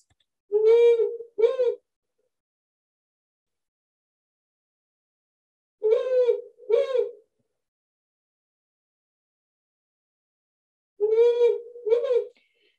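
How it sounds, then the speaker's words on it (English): Powerful owl calling at night in a backyard, three widely spaced double hoots, each pair of deep resonant notes clear and close against near silence. "I hear a powerful owl."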